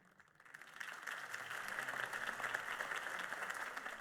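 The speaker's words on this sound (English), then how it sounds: "could have heard that applause" Applause swells from a large crowd in the video game Batman: The Telltale Series and holds steady, a dense wash of clapping heard at moderate distance.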